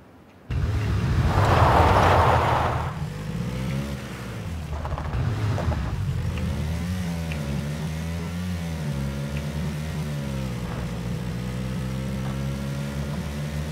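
In-game car engine from the shooter PUBG: the motor starts up with a loud burst, then hums steadily as the vehicle drives, its pitch wavering gently as it speeds up and eases off.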